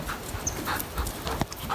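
A two-year-old black Labrador retriever pants in quick, rhythmic breaths close by, with soft shuffling and light movement sounds around it.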